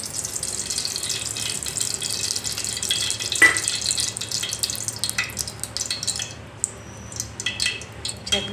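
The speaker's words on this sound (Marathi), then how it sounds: "चला तर आपण फोडणी देऊया आता।" Mustard seeds and cumin hit hot oil as tempering for a stuffed eggplant curry, giving a close, crackling sizzle with splashes of running water and utensil clatter, louder at the start and thinning out later.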